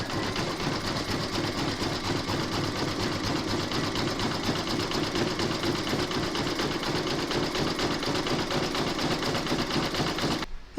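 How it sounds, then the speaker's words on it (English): An embroidery machine runs a zigzag stitch along raw fabric edges on a Christmas door tag, giving a steady, dense mechanical whir with rapid needle pulses that holds unbroken for the whole stretch before stopping abruptly. "you're now going to stitch round number 12, and that's going to zigzag the raw edges"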